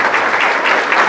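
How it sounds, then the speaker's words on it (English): A conference audience applauds for Christina with a brief, steady wash of dense clapping and no voices. "Let's give a round of applause for Christina."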